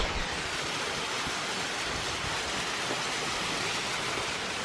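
A waterfall in the countryside near a village, its rushing water a steady, even broadband roar heard up close with no other sounds over it.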